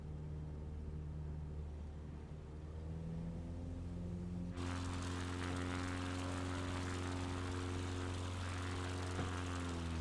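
Propeller airplane engine in Microsoft Flight Simulator drones steadily near, then swells louder and rougher mid-clip as power comes up for a low approach.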